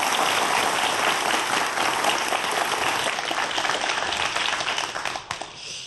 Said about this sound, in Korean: 여러분 큰 박수로 강연 청해 듣겠습니다.